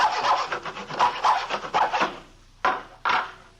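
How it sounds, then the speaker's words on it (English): A hacksaw cuts through a piece of plywood in a series of close, rasping back-and-forth strokes, then pauses before two final separate strokes near the end. "he was sawing on a piece of plywood with a hacksaw"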